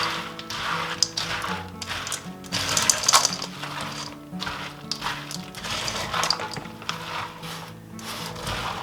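Frozen hash browns are stirred into a cheesy hash brown casserole mixture, giving a continuous close, crunchy clatter and scraping with irregular taps.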